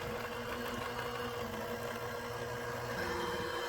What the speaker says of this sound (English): Now I'm going to mix this together until it's creamy.